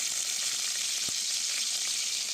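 Green chillies sizzling in hot oil in a pan for a potato fry, a steady close crackling hiss with a single soft knock partway through.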